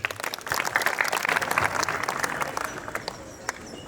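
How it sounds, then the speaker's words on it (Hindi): A school audience at a Jawahar Navodaya Vidyalaya art-in-education workshop in Hoshiarpur claps steadily to welcome a guest speaker, a dense, close wash of many hands that continues throughout and thins slightly toward the end. "तो जोरदार तालियों से स्वागत कीजिए"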